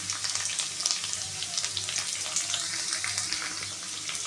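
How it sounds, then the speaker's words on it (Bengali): Potato pieces frying with salt and turmeric in hot oil give a steady, close crackling sizzle with a faint stirring scrape mixed in, continuous and unaccompanied by speech. "সামান্য নুন হলুদ দিয়ে আমি আলুটাকে হালকা করে ভেজে নেব।"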